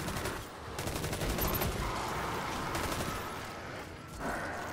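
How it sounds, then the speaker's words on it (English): Loud, rapid gunfire rattles through a Destiny 2 raid, the Pit of Heresy, as sustained bursts of automatic shots overlap in a dense, continuous firefight with brief lulls. "Stop shooting me."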